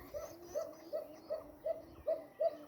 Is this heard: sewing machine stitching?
no